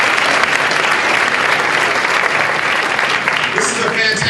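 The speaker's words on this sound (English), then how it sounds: "Let's give them a round of applause." A large audience at a national mentoring summit claps in a steady, dense round of applause that fills the whole stretch at an even, loud level, with no voices over it.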